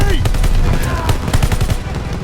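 Rapid machine gun fire in the World War II shooter Call of Duty: Vanguard, loud close rattling bursts over a heavy battle rumble, with shouted voices in the background.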